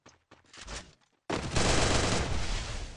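Rapid automatic gunfire in the Garena Free Fire mobile shooter, a couple of short separated bursts followed by a long continuous loud volley.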